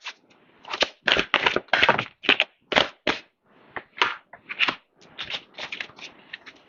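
Tarot cards for a psychic reading being shuffled and drawn, a run of crisp papery slaps and riffles coming in quick bursts with short pauses between them, close and clear with no voices.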